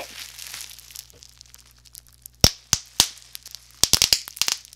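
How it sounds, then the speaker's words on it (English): Crinkling plastic followed by a series of sharp, loud pops, some single and some in rapid clusters, close up. "Who doesn't love bubble paper? You like that sound?"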